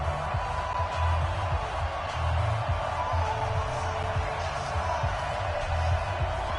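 Stadium crowd at a Detroit Lions versus Jacksonville Jaguars NFL Thanksgiving Day game in Detroit, a broad steady roar of many voices heard from a distance, with a commentator talking over it.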